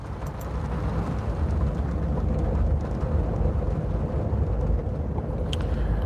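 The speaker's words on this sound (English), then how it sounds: "it's raining, internet acting funny." Steady rain falls with a deep, continuous low rumble of thunder rolling underneath, heard alone without talk at a constant moderate level throughout.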